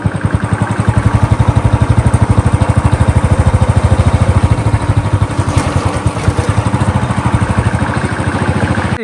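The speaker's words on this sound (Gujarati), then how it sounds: "બાઇકમાં ઓટોમેટિક જાય." A motorcycle is ridden through quiet hill country near Abu, its engine chugging in a fast, even, close-up pulse that stays loud and steady throughout.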